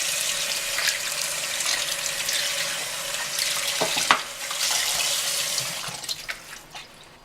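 Cold tap water running onto catfish in a pot, a continuous close hiss and splatter of the stream with brief clunks and drips, tapering off at the end.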